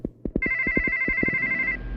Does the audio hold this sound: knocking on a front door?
no